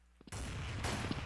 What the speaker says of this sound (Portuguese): Vamos dar um tiro na boca dele